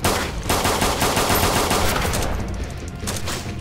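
Rapid, continuous gunfire in the survival game DayZ, loud overlapping shots in a dense burst filling the whole stretch without a break.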